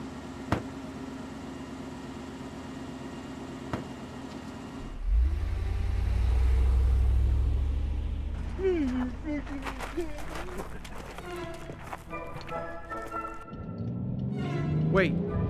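A car creeps along in a slow speed chase in a comedy feature film, its engine rumble swelling loudly midway and then fading under voices and other scene sounds.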